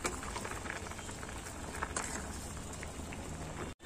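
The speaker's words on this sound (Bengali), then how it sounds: "ভালো করে ফুটিয়ে নিচ্ছি আলু পাঁপড়গুলোকে" Potato papad boil in a pot of water on the stove, giving a steady, dense bubbling and hissing that rolls on continuously at moderate level with no talking.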